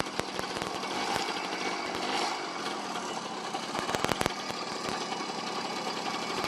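Romet Ogar 200 two-stroke moped engine running steadily at idle, a loud, busy, crackly buzz with irregular two-stroke pops and a few sharper bursts, close up and without talk.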